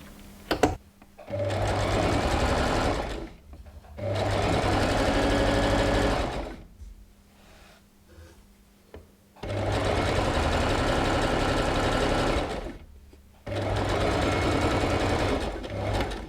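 Sewing machine stitching clear elastic into a t-shirt shoulder seam, running in four steady whirring bursts separated by short quiet pauses, close and loud.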